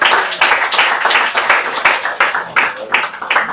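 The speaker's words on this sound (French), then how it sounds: "Un peu d'acclamation." A Sunday church congregation in Treichville claps loudly in a rhythmic, pulsing pattern of repeated strong beats, with acclaiming voices rising among the hands.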